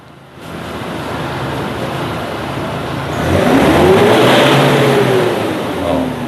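Nissan Navara pickup diesel engine, suffering from black smoke and sluggishness, idles and then revs up to a loud sustained roar with a rising drone before easing back, heard close and without talk.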